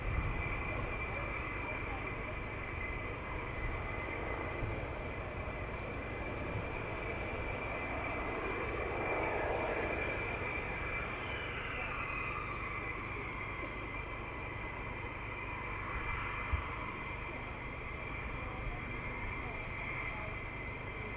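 Military jet aircraft taxiing at RAF Lakenheath, a steady distant engine roar and whine that holds throughout with slight swells in the middle, heard outdoors under faint background chatter.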